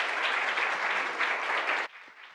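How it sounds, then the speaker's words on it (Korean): An audience at a Korean company-analysis competition gives a team a burst of dense, continuous applause that stops abruptly near the end, leaving faint room sound. "우리 팀원들에게 여러분 큰 박수 부탁드리겠습니다"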